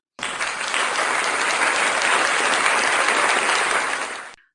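An audience bursts into cheers and applause as a rooster character steps into the spotlight, a loud, dense, steady ovation that starts abruptly, holds for about four seconds, then fades quickly.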